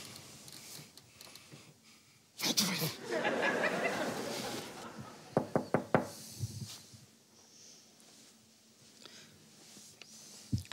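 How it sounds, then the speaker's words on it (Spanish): A quick series of sharp knocks on a door rings out in a quiet room, four or five close raps in fast succession after a stretch of rustling and shuffling. "¿Han llamado a la puerta o lo he soñado yo?"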